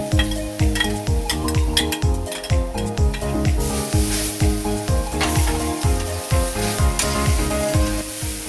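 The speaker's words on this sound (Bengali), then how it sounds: "এখন আমি নারিকেলটা ভালো করে ভেজে নেব।" Grated coconut frying in a hot kadai, with a steady dense sizzle and crackle throughout and regular rhythmic scraping as it is stirred, loud and close, with no talking.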